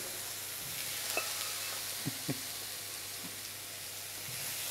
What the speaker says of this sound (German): Die haue ich jetzt auch hier nochmal in die Pfanne daneben, damit die hier gut knusprig werden.